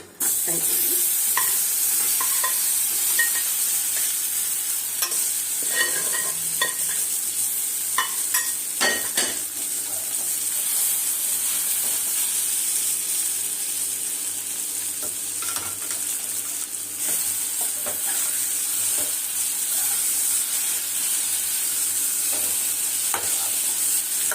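Suvarna gadde yam fries with curry leaves in a pan, sizzling steadily throughout. It is stirred now and then with scraping and clinking of a utensil against the pan. No one talks.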